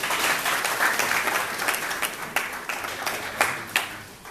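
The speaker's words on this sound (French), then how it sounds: "Merci de nous accompagner encore par les applaudissements." Audience applause at an official Hajj 2024 launch ceremony, a steady wash of many hands clapping at moderate distance, with a few sharper individual claps standing out near the end.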